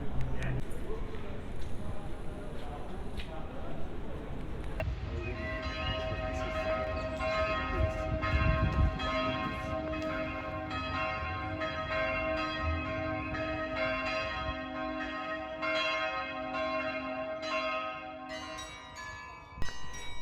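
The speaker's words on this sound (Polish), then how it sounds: "możemy usłyszeć dość oryginalną melodię zagraną na dzwonach" Church bells ring out a melody over the market square of Esslingen am Neckar, with sustained tonal chimes starting partway through and carrying to the end above a murmur of town ambience and distant voices.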